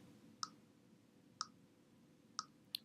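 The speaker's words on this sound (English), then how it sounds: "You should start to hear a clicking noise, which means that it is starting to be prepared." A LEGO NXT brick preparing for download gives faint, sharp clicks about a second apart, then a quick pair at the end, over a quiet background hiss.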